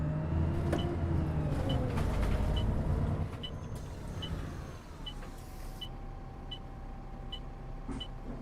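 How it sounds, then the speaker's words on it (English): A Transbus ALX400 regional bus with no rear window drives in the Omsi 2 simulator, its engine droning loudly before easing to a steady hum as the pitch glides, with faint regular ticking throughout. "this bus is quite loud as well, but I think it's not as loud as the LX"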